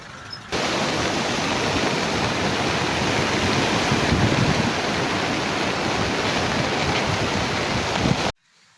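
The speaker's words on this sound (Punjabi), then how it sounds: "ਬਾਰਿਸ਼ ਨੌਨ ਸਟਾਪ ਪੈ ਰਹੀ ਆ" Heavy, non-stop rain pours over flooded fields and villages in Punjab, a loud, even roar of falling water that starts abruptly, runs unbroken and cuts off near the end, with no voices.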